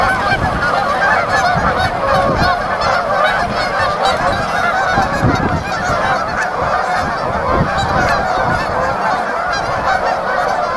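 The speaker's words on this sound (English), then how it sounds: "these geese want to take off" A dense flock of geese honks continuously on an icy river, loud overlapping calls close by with no gaps and no talking.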